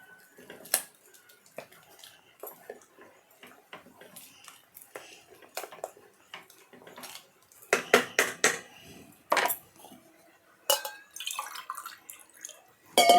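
Water poured into cooking dal for sambar rice in a home kitchen, with scattered drips and splashes and clinks of a utensil against the pot, close and intermittent.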